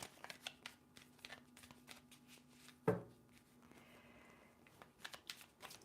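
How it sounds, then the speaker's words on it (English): Tarot cards riffle and snap in quick bursts, with one sharp loud shuffle in the middle and softer flicking around it. "2 more shuffles."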